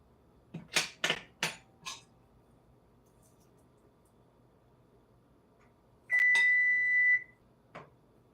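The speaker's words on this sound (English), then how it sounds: "that's the oven going off, letting me know it's ready" Kitchen oven timer going off when the food is done, a cluster of quick electronic beeps followed by a longer steady tone and one final short beep, close and clear in a quiet room.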